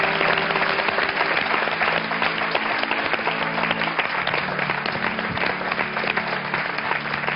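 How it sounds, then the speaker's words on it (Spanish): Sustained applause in memory of a man named David, a dense, even wash of clapping from a crowd that continues for several seconds without a break. "Este es mi aplauso en memoria de David"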